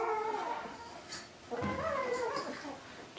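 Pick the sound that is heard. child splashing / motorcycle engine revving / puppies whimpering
puppies whimpering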